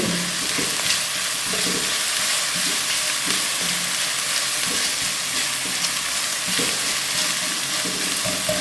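Chopped green chillies stirred in a sizzling pan for chana chaat, a steady hiss of frying broken by regular scraping strokes of the spoon, close and continuous with no talk.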